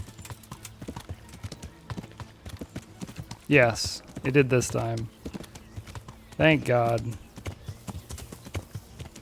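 Horse hooves clip-clop at a steady pace in the medieval video game Kingdom Come Deliverance, with a couple of loud horse whinnies partway through and someone talking over the gameplay.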